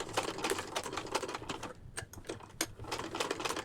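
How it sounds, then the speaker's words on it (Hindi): A sewing machine runs in quick, even bursts of needle clatter while fabric is turned to stitch a circle during beginner stitching practice. It pauses briefly midway, then resumes its close, steady rattle with no talk. "आप इजीली कपड़े को घुमाते जाएंगे और ये सिलाई होती जाएगी"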